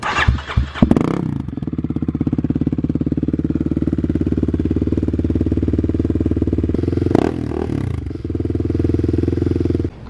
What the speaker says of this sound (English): Let's go ahead and start up the KX here for you new guys on the channel if you haven't heard this bike before.